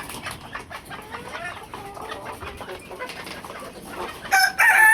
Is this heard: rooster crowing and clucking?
yes